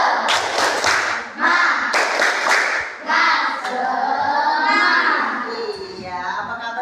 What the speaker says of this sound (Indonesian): Coba biar tambah semangat kita tepuk semangat dulu